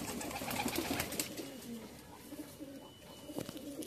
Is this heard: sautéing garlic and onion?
no